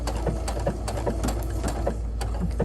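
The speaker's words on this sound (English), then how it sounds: "I can't talk and sew at the same time." A sewing machine stitches fusible appliqué on a quilt block in quick, even bursts of rhythmic needle clatter, close and clear, with a low motor hum beneath.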